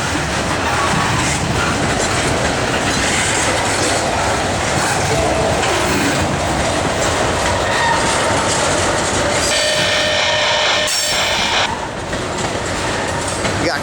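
A CSX freight train passes close and loud on a crossover from the FFC line to the main line near Mount Holly, with rolling wheel noise, rhythmic clickety-clack over rail joints and faint squeals.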